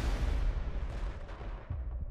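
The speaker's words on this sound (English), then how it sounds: "Grenade!" A grenade blast in Borderlands 2, a heavy, low rumbling boom that fills the moment and fades over about two seconds, with no talk over it.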